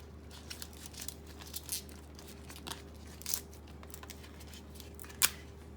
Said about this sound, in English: once we get them all stripped, then we're going to cut them